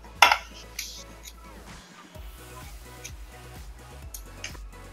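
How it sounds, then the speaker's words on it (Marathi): A knife slices soya chaap pieces on a board, with a sharp clink at the start followed by repeated soft, evenly spaced chopping taps. "आता आपल्याला हे कापून घ्यायचं आहे."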